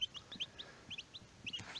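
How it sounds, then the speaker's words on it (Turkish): Eight one-day-old chicks, hatched under a hen, peep in quick high chirps, several overlapping in short bursts, close and fairly quiet with a faint background hiss. "Şu an 8 tane civcivimiz var."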